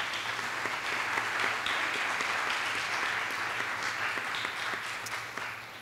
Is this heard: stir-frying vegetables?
no